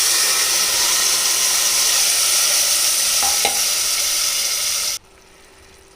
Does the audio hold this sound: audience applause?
no